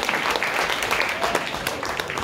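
After a jazz song at a live session, the audience gives continuous dense clapping with some crowd voices mixed in.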